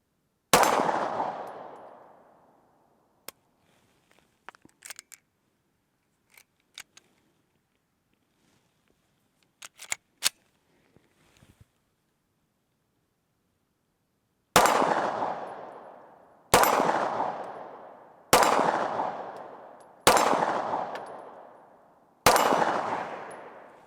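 Five sharp, loud rifle shots from a Cyelee Wolf EDG rifle, each with a decaying echo, the first one alone and then four in quick succession a couple of seconds apart, with faint clicks and handling noises in between.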